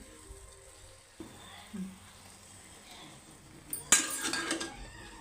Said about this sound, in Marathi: त्याच्यात आपण आता चणे घालून घ्यायचे आहेत